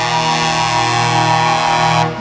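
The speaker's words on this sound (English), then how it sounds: "Freight train horns put on a semi." Freight train horns fitted to a Peterbilt semi truck blast one long, steady, loud chord in several octaves, sounding continuously at a truckers' jamboree parade before cutting off at the end.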